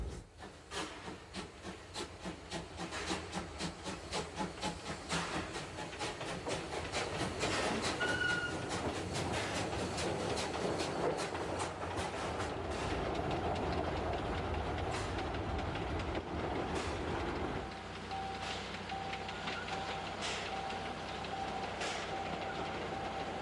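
An Appenzell Railway steam locomotive hauls a special excursion train on the Gossau to Wasserrauen line in Switzerland, chuffing rhythmically with steady rumble, hiss and clattering wheels as it passes close by.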